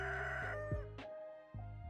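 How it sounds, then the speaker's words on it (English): Rooster crowing in the farming game Stardew Valley, a short clear crow heard under steady game background music. "I hear rooster, but I do not own rooster."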